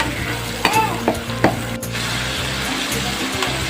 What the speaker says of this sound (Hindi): इसके अंदर ये टमाटर डाल देंगे, अच्छे से मिक्स कर देंगे।